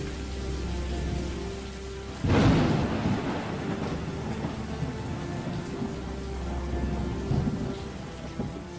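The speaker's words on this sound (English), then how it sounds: "Thunder cracked and boomed as rain fell down from the sky onto the cold, dead earth below." A thunderstorm with a sudden loud crack and rolling boom of thunder over steady falling rain, the rumble fading back into the constant downpour.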